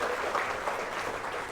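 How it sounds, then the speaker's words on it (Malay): Steady, dense applause from a lecture audience, sustained at an even level throughout with no pause. "saya nak minta tuan-tuan untuk beri tepukan gemuruh untuk diri sendiri"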